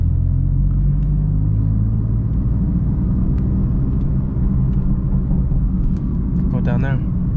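A BMW M4 engine rumbles low and steady while the car drifts, a continuous heavy drone close by, with someone speaking briefly near the end.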